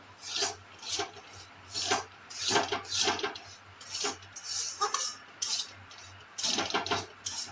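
A utensil scrapes and rasps against a pan as semolina is stirred while dry-roasting over low heat, coming in repeated rhythmic strokes with short pauses between, close and clear with no speech.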